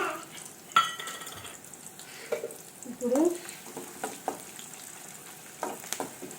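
Dried red chillies, curry leaves and tempering spices frying in oil, a soft ongoing sizzle broken by scattered stirring clinks and scrapes against the pan, fairly quiet and close.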